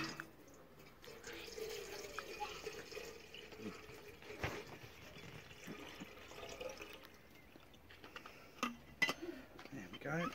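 Water runs faintly into a metal flask outdoors at a bushcraft camp, a soft steady trickle with light splashes under low background noise and occasional quiet knocks.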